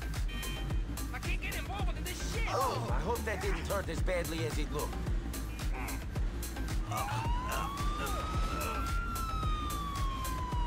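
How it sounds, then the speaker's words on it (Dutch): Ambulance siren in the GTA IV video game, a wailing electronic tone sweeping up and down repeatedly, mixed with game engine and traffic noise while people talk over it. "de ambulance doet de sirene eens aan"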